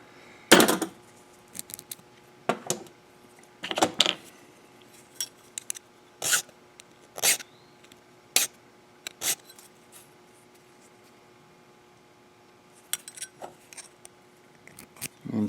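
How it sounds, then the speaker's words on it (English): Hand filing of a key blank for a Kawasaki ignition lock: short, scattered rasping strokes with brief pauses between them, close and fairly crisp, no talking. "when it drops down to where it's level with the lock cylinder, you can stop filing"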